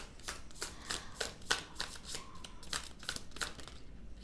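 Tarot cards shuffled by hand in a quiet room, a quick run of crisp riffling bursts repeating roughly every third of a second, close and fairly soft, with no talking.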